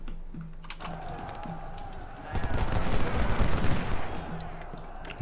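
Ragged musket volley fire from Civil War infantry lines in a strategy game, a burst of crackling shots building after a few sharp single reports and rolling on for a couple of seconds at moderate volume.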